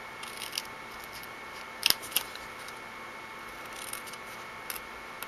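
Scissors snipping through card stock for a lattice card, a few faint, crisp snips clustered together in a quiet room with no talking.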